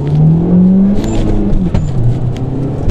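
A Peugeot 208 GTI engine revving loudly under hard acceleration and climbing in pitch, heard close up with steady road roar underneath.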